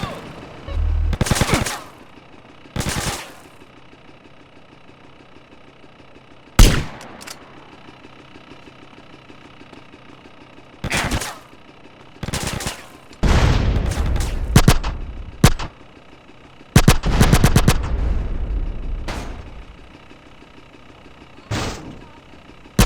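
Bursts of gunfire ring out in GTA San Andreas during a roadblock mission, with sharp single shots and longer automatic volleys separated by quieter stretches of game ambience.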